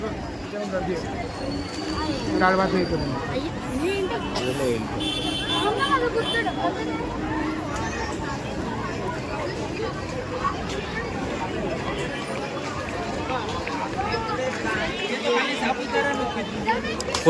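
Crowds of tourists at Honeymoon Point in Mahabaleshwar on a busy May day, a steady, dense hubbub of many overlapping voices, close and continuous throughout.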